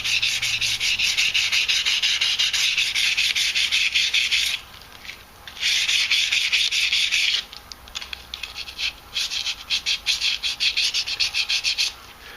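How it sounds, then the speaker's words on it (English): Wooden custom knife scales for an Ontario Rat 5 being hand-sanded with 500 grit sandpaper, a loud, close, steady rasping rub in long continuous strokes, briefly pausing twice before resuming in quicker strokes. "see how I'm going to sand it down with the 500 grit, and then I'll go down to 1000 grit"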